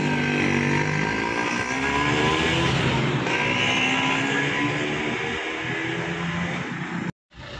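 A bus with a Laksana XR2 body and a Hino RN260 engine, running in Morowali, drones loudly and steadily close by with a slight pitch rise, then cuts off abruptly near the end.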